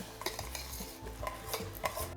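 Rice is stirred with a spoon in a pot of boiling water: a few light metallic scrapes and clinks against the pot over a low bubbling rumble, close and fairly quiet, with no speech.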